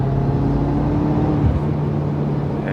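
BMW F10 M5 accelerating hard in fourth gear, a strong, steady engine drone heard from inside the car, with a brief dip in pitch midway before the pull continues.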